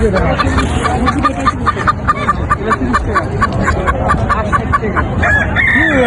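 Chickens at a poultry market cluck in quick repeated bursts while a rooster crows, all close and loud, with faint human voices in the background.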